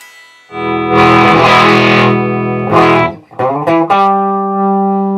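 Electric guitar played through a Tweed Deluxe amp kit with Greenback speakers on its normal channel, loud overdriven chords ringing out, a brief choppy flurry of strums, then a final sustained chord, with no talking.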